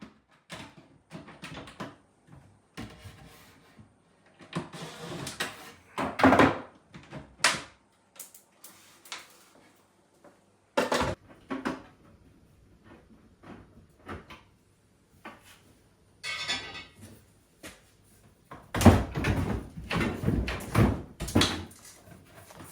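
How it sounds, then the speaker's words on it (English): Intermittent wooden knocks, clunks and scraping as old kitchen cupboard doors are handled and taken off, with quiet pauses between bursts. "Or maybe I will remove the doors."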